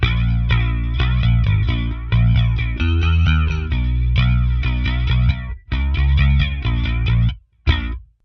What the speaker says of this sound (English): Sounds great with compression and this kind of tubey sounding SVT-like sound.